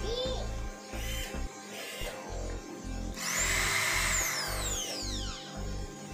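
A DCA ADZ02-6A corded electric drill bores into 15 cm thick mahogany wood in repeated short bursts, its motor whining loud and close between brief pauses.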